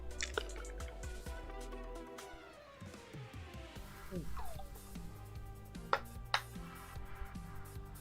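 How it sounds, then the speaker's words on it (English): A streamer takes a drink of water, giving soft wet sips and liquid drips close to the microphone over steady background game music. "Sorry, just drinking some water."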